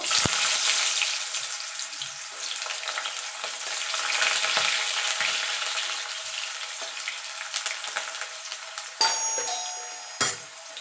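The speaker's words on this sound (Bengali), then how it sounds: "দেখেন বন্ধুরা তেলটা গরম হয়ে গেছে এখানে আলুটা আমি ভেজে নেব" Potato pieces fry in hot oil, a steady bright crackling sizzle with scattered pops and a couple of sharp metallic clinks near the end, close up.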